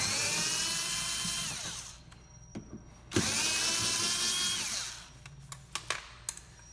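A power screwdriver whirs in two long bursts as it backs Phillips screws out of a Honda Fit rear bumper cover, each run sliding in pitch, followed by a few sharp ratcheting clicks and taps.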